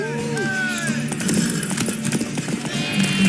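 Horse hooves clip-clopping in The Witcher, a steady rhythmic trot close by with a whinny and game music tones, under overlapping speech.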